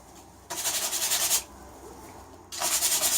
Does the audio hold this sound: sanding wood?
yes